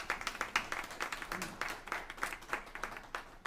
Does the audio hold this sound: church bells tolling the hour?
no